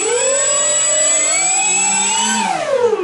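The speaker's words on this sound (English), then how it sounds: "Let me spool it up just a second so you can hear it" Electric motors of a foam RC Avios Albatross HU-16 Coast Guard flying boat model spool up, a loud, close, steady whine that climbs in pitch, then dips and rises again.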